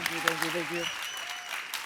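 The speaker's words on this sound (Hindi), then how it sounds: "एक बार गौहर और राजीव के लिए जोरदार तालियां।" A studio audience at a comedy talk show applauds to welcome guests. Brisk clapping runs throughout under a short musical sting and voices.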